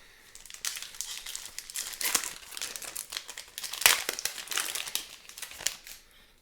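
The plastic wrapper of a Mystery Booster 2 card pack crinkles and tears as it is opened, with continuous close, loud crackling that comes in uneven bursts. No one is talking.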